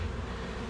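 A brief, steady hum of honeybees buzzing close by at a hive, a dense droning with no voices.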